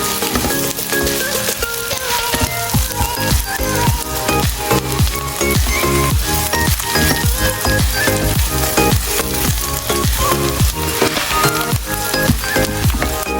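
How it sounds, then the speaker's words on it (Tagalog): Onions sautéing in a pan with garlic and aromatics for a Filipino mung bean (monggo) stew, a steady loud sizzle with rhythmic scraping and stirring strokes throughout, no talk. "Akin na po itong igigisa sa ricado. Ayan po, lalagay ko na po itong sibuyas."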